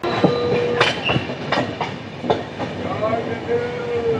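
A train pulls into Santragachi station with rumbling wheels, rhythmic clatter over rail joints and thin squeals of wheels on the rails, loud and near.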